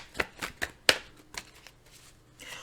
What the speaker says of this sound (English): Let's go ahead and pull some clarifying cards.